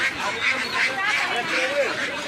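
Large ducks quack repeatedly at a busy village livestock market, nasal calls close by amid crowd noise and people talking.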